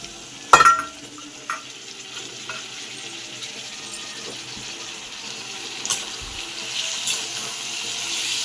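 Chopped tomatoes, about three of them, stirred into an egg thokku pan with onion and garlic, giving a steady low sizzle with a sharp clatter near the start and a few soft stirring knocks, with no talking.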